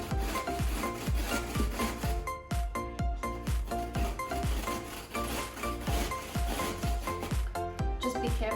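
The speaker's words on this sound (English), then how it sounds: "I'm just gonna finish grating this up." A vegetable grated by hand on a metal grater for tzatziki dip, a steady rhythm of quick rasping strokes, close and loud, repeating evenly throughout.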